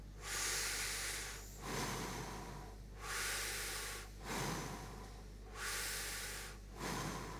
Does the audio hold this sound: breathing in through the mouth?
yes